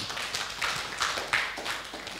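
Light, scattered clapping from a church congregation at a Sunday worship service, soft and somewhat distant, with no voices over it.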